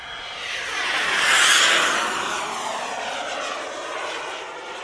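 LintonJet X80DX turbine powering a radio-controlled Aerofoam MB-339 jet in flight at a steady 40% throttle: a continuous whooshing turbine roar that swells as the model passes closer, then eases off slightly, with no talking.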